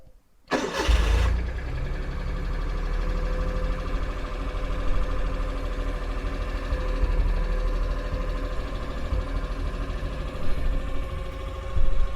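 A 1986 Suzuki Mighty Boy three-cylinder engine cranks briefly with the choke out, catches, and settles into a steady, slightly uneven idle heard nearby with no talking.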